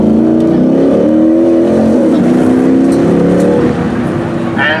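Jeep SRT8 and Subaru dirt drag racing, loud close engine roar with rising, shifting revs under steady commentary from an announcer.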